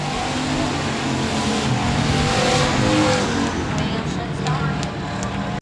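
Race cars at 67 Speedway of Texarkana, engines roaring steadily as the field runs through the turns, loud and continuous with an announcer talking over the track noise.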